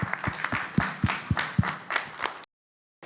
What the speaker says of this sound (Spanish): hagamos un aplauso para...